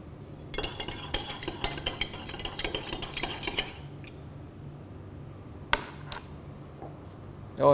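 Metal spoon stirring strawberry lemon tea in a cup: rapid, loud clinking and scraping against glass for about three seconds, then a few isolated taps, with no talking.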